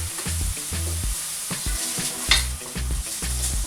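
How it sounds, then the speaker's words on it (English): Garlic and onion fry in oil in a pan, a steady bright sizzle running throughout with a few sharper crackles, while a rhythmic low musical tune plays underneath. "You then add your garlic and leave it fry a bit"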